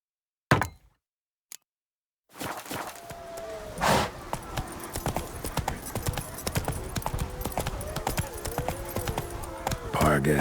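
Roach the horse galloping in The Witcher 3, a rapid steady clip-clop of hooves starting after a brief pause and running continuously, with a short voice near the start and game ambience beneath.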